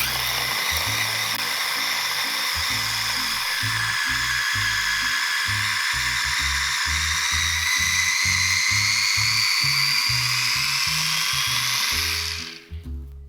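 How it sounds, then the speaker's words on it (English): A kitchen blender whirs steadily at high speed, blending a flavored mixture with the lid on, loud and continuous for about twelve seconds before cutting off abruptly near the end. "pop the lid on and blend"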